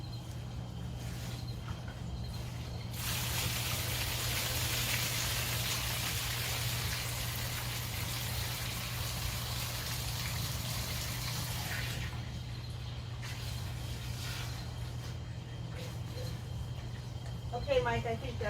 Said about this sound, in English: I'm just going to run this water until the bowl feels nice and cool.